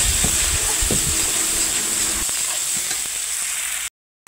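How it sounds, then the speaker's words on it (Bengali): Garlic paste, cumin powder and chili powder sautéing in hot oil for a tilapia curry, a continuous close sizzling hiss with a few soft scrapes and taps of stirring, cutting off abruptly at the end. "রসুন বাটা, জিরে গুঁড়ো, ঝালের গুঁড়ো দিয়ে সুন্দর করে কষিয়ে নেবে।"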